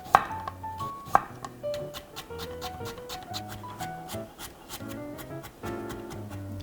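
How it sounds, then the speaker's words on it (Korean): A knife taps quickly and unevenly on a cutting board as vegetables are finely minced for omelette rice in a home kitchen, up close and clear, with two louder knocks at the start. "채소는 잘게 다져주세요"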